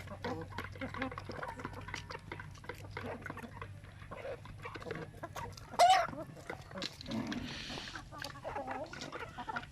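Basilan breeder hens cluck and call on a poultry farm, the brief clucks scattered under a person talking nearby, with a low steady hum behind.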